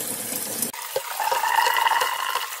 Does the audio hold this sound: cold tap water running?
yes